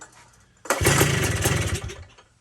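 A Honda ATC three-wheeler's engine catches on the first pull and roars up abruptly into a loud, close, rough idle, then eases slightly as it settles, with no talking over it.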